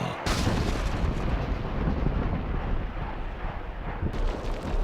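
Heavy weapons fire in a battle scene, a dense continuous roar of booming blasts and gunfire lasting throughout, loud and close, with no clear pauses between shots.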